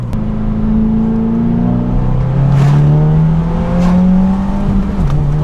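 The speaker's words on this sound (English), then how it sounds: "It's amazing how rumbly this car is." A brand new 2022 Subaru WRX fitted with a Remark exhaust revs up close, its deep rumbling note rising and falling steadily with no talking over it.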